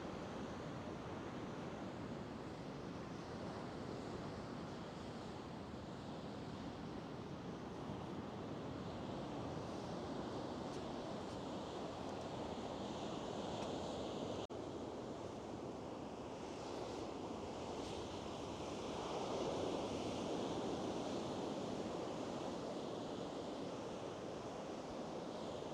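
Waves wash in continuously at a beach below coastal steps, a broad, even roar mixed with wind buffeting the microphone, with no voices.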